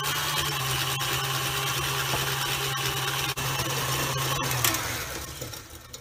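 Electric mixer whirring steadily through chocolate zucchini bread batter with eggs, a constant motor drone with faint clicks that tapers off near the end.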